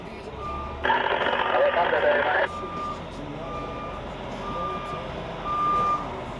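A truck gives out a series of regular reversing beeps while backing a trailer into a loading bay, the steady evenly spaced tones standing out over engine rumble, with someone talking alongside.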